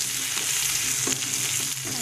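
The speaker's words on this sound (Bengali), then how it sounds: "তো তেলটা গরম হয়ে আসছে, কাঁঠালগুলো দিয়ে দেব। টুকরোগুলো দিয়ে নেড়ে চেড়ে দেব" Pieces of raw jackfruit fry in hot oil with a loud, constant crackling sizzle, while a utensil stirs them with a few soft scraping strokes.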